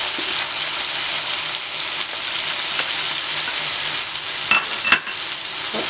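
Tomatoes and onion frying in a pan or tawa, a dense continuous sizzle with occasional stirring scrapes and clicks near the end.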